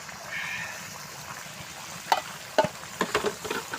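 Wet paste of ground chili, ginger, garlic and cumin being stirred, with a soft steady smear at first, then several sharp close clicks and squelches of the spoon in the pot.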